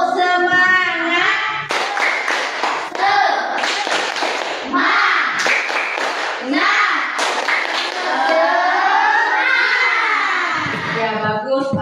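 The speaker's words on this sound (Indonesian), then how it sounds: "Ya, 1, 2, 3. Tepuk semangat." Schoolchildren in a classroom perform a rhythmic spirit clap, sharp bursts of group hand claps in patterned beats mixed with loud chanting voices of the children, close and busy throughout.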